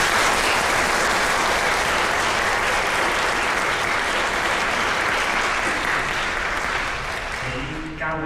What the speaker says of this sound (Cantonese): 我哋俾啲掌聲嗰度